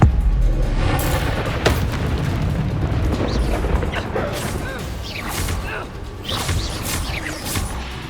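Spell explosions such as Bombarda and Confringo boom and crash during combat in Hogwarts Legacy, layered with whooshing magical effects and a spoken voice, forming a dense, loud battle mix.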